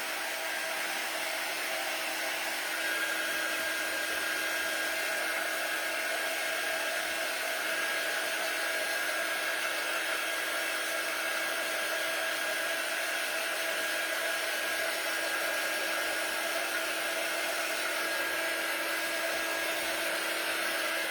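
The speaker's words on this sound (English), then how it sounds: "Trying to blow some of the excess glitter off here." A hair dryer blows excess glitter off a Dollar Tree craft bunny, a steady close whirring roar that holds unbroken and level for the whole stretch, with no voices.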